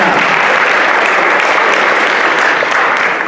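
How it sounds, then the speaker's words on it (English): An audience at a poetry recitation competition gives a steady round of applause. The clapping is dense and continuous, filling the room from start to finish. "give them a round of applause"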